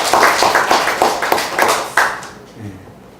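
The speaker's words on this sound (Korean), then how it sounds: "박수 한번 합시다" A church congregation at a Korean Sunday service claps together in a quick, steady rhythm of about half a dozen beats, welcoming a member back, before the clapping stops and the room falls quiet.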